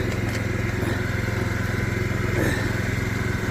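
Drain cleaning machine running steadily, clearing tree roots from a blocked drain pipe: a continuous, close, loud motor drone with a regular low pulsing throughout and no pauses.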